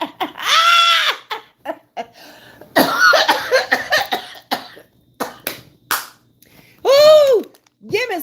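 Several sharp, harsh coughs burst out in separate fits, loud and close, with short voiced sounds between them.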